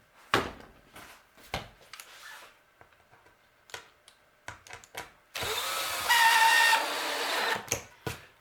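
A power drill whirs for about two seconds, driving a screw into the bottom of a wooden bluebird house, after a run of scattered knocks and clatters from handling the wood nearby.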